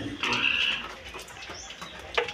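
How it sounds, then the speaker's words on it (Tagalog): Pigs on a farm at feeding time squeal and grunt in short bursts, a high squeal standing out early before quieter snorts, heard close in the open with light rain around. "Ang baboy."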